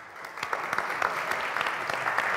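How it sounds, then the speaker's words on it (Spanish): An audience applauds the departing panel speakers at a Spanish culture report presentation, a steady patter of clapping from a moderately sized room, fairly even and unbroken for a couple of seconds. "Así que os pido que les despidamos con un aplauso."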